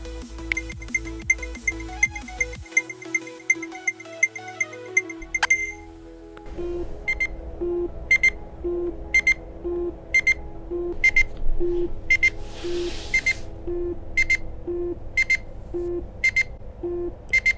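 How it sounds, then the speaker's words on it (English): Regular electronic beeps from a Nintendo Switch 2 Joy-Con controller's built-in speaker during a controller search, repeating at a steady pace, preceded by a few tonal chimes, close and clear with no talking. "is that beeping coming from the Switch 2 Joy-Con?"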